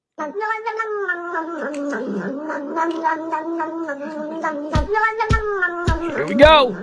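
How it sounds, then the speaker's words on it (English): A cat drinking milk lets out a long, wavering, whiny yowl that carries on almost without a break. A few sharp clicks come near the end, and a person speaks briefly. "it's making a little cat noise while it's drinking milk"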